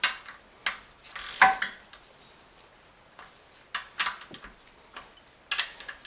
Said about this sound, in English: My recommendations is to break them free with a wrench or ratchet first.